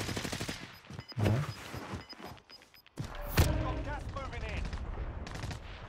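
Rapid gunfire bursts and shots in a Call of Duty Warzone match, loud and close with sharp repeated reports, mixed with a voice speaking over the action.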